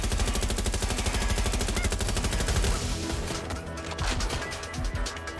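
Rapid automatic gunfire rattles in the video game Watch Dogs: Legion, a dense loud stream of shots for about three seconds, then scattered bursts and impacts with game sounds.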